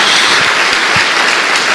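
Congregation applauding for Jesus during a church service, a dense, steady wash of many hands clapping throughout, loud and close with no talk.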